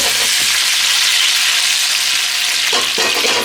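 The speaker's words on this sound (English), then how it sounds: "It's that sizzle that gives you the crispy potatoes, basically." Loud, steady sizzling of potatoes frying in hot oil, a bright crackling hiss with a brief stir or shift near the end.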